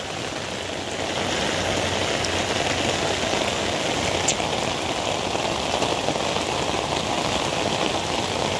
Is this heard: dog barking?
no